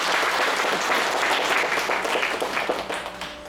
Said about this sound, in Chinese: 我们给他一个掌声好吗？